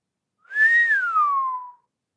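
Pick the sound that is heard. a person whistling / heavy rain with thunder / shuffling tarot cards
a person whistling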